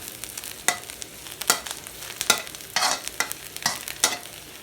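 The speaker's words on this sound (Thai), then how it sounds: "เห็ดหอม ทอดเคี่ยวเคี่ยวน้ำมันก่อนเคี่ยวให้หอม" Shiitake mushrooms frying in hot oil give a steady faint sizzle, broken by sharp spatula scrapes and taps against the pan at irregular intervals, close up with no talking.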